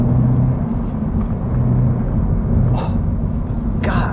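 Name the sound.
2024 Subaru BRZ tS boxer engine while driving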